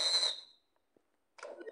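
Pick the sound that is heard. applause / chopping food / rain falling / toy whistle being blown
toy whistle being blown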